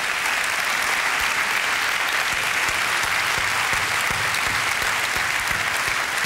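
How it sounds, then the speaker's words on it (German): A television game show studio audience applauds steadily as a volunteer from the crowd is called up, a dense, even wash of clapping that holds throughout without talk. "unter Applaus"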